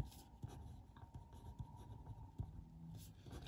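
A pen writing on paper, making soft continuous scratching with small taps as strokes begin, steady and close for a few seconds with no talk.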